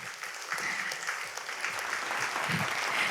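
An awards-ceremony audience keeps applauding in a thick, even roar of clapping hands, filling the moment without any speech on top.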